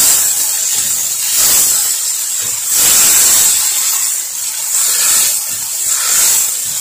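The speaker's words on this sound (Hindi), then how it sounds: "गाजर को अच्छी तरह मिक्स करेंगे। थोड़ी देर इसको फ्राई करेंगे।" Carrots frying in a pan give a steady broad hiss and sizzle that swells and eases in slow waves, close and fairly loud, with no talking.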